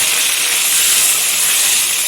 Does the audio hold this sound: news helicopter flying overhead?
no